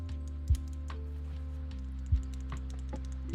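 Clacky switches on a rebuilt MB44 mechanical keyboard tap out a quiet, irregular run of keystrokes, with a couple of heavier thumps and a low background hum.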